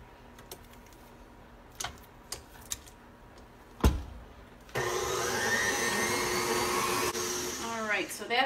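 An electric mixer beats blondie batter in a bowl: after a few light taps and one sharp knock, a loud, steady whir starts and runs for about two and a half seconds, then cuts off, followed by faint rustling.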